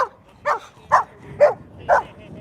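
Dogs outdoors beside a street where people roller skate let out a regular run of five short, high yips and whimpers at close range, with no talking over them.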